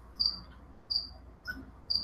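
A cricket kept as live food for a pet spider chirps in short, bright bursts, four evenly spaced trills over quiet background hum, fairly close.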